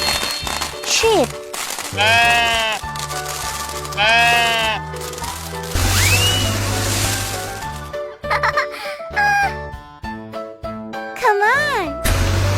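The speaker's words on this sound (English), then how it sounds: "Sheep." Sheep bleat repeatedly in wavering, nasal calls, loud and close, with bursts of giggling and chatter mixed among them amid other playful sounds.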